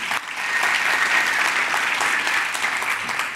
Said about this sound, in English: yes, yes, we can clap